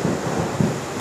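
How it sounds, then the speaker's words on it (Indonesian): Low thunder rumbles close by in a brief burst, with a heavier swell partway through over a steady hiss of rain. "Ada petir."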